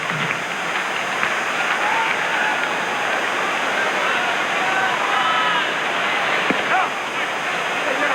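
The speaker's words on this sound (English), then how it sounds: "Crowd trying to stir a little bit." A baseball stadium crowd at a 1999 Rangers game makes a dense, continuous roar of cheering and murmur, fairly loud and even throughout, with a few scattered shouts rising above it.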